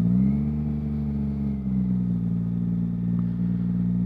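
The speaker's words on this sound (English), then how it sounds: "give it throttle, rub the back brake." A motorcycle engine idles and revs gently at slow riding speed while the rider works the clutch and throttle, giving a steady, close, low droning hum with slight pitch rises and no talking.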